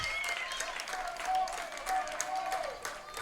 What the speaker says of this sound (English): Fans rising and clapping,